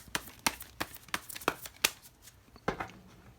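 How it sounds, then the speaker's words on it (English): Tarot deck with matte cardstock being shuffled by hand in a series of sharp riffling bursts, roughly eight or nine quick slaps and flutters spaced unevenly and heard close up in a quiet room. "I just shuffle them like this."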